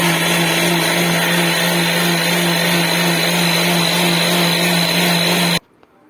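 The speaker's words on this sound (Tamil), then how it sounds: "மிக்ஸி ஜாரில் அடித்து எடுத்துட்டோம்." A mixer jar blends papaya milkshake made with boiled, cooled milk, giving a loud, steady whirring roar that runs unbroken for several seconds, then cuts off abruptly into near silence.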